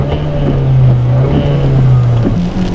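Kia Seltos 1.6 turbo direct-injection Gamma engine droning steadily from inside the cabin while driving in rain, a loud, rough, constant hum mixed with road and wind noise, no talk.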